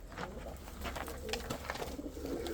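Gökler and Bozlar breed pigeons in a coop, giving soft, repeated cooing calls close by, with a faint murmur of background voices.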